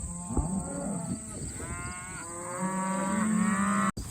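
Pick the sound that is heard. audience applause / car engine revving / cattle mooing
cattle mooing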